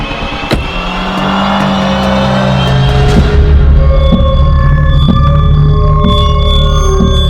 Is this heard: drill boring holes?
no